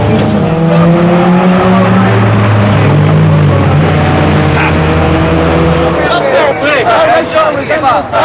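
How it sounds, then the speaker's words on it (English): Street race between a Mazda 323 and a pumped-up 1997 Honda Prelude, engines revving and droning loudly with rising gear tones and brief tire noise, under a narrator's voice and crowd noise. "Rob in his anemic-looking 323 has challenged a pumped-up 97 Prelude, one of the street's thoroughbreds"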